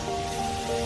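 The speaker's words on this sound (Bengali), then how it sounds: "এই বৃষ্টি, এই ওয়েদার দেখো, সব ধুয়ে যাচ্ছে" Rain falls steadily over a building site where masons work overhead, a continuous soft patter at moderate level with a faint tonal hum running beneath it and no talk.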